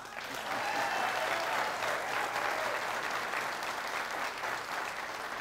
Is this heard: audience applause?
yes